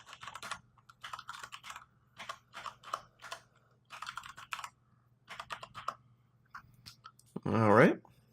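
Short bursts of key clicks as a router username is typed on a computer keyboard, close and fairly quiet, broken into clusters of taps, ending with a brief louder scrape.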